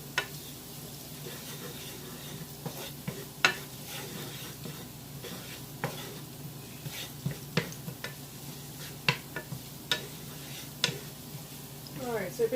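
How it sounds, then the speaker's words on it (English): Garlic sizzles softly in a pan with a steady low fry, broken by scattered clicks and taps of a utensil; no one speaks over it. "the garlic gets cooked down for only 30 seconds"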